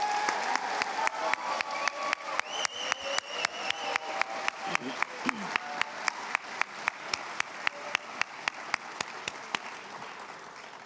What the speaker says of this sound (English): So can we please give them another round of applause?